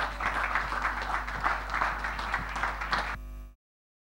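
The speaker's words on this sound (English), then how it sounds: "Ladies and gentlemen, let's rise and give a round of applause to Honorable Justice Olutoyin Ikpaye." A seated audience at a church parish event rises to applaud an honorable justice, giving a brief, moderately faint round of clapping that lasts about three seconds and then cuts off abruptly.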